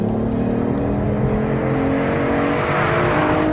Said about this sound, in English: You put it in sport, you put your foot down,